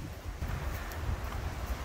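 Strong wind buffets the microphone at a Gulf-side beach on Manasota Key, a steady low roaring rumble with no voices.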